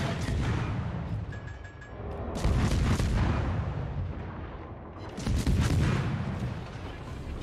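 Destroyer main guns firing in World of Warships, a Pan-Asian Loyang in a naval battle; heavy booming salvos arrive in rolling bursts over a dense, rumbling roar, loud and close throughout.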